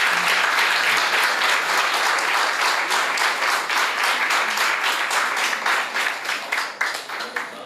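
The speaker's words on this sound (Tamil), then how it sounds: "எல்லோரும் ஒரு மிக பலத்த கரகோஷத்தை அவருக்கு தருவோம்." Audience applause at a Tamil literary event, dense sustained clapping from a crowd that stays strong and then thins and tapers toward the end.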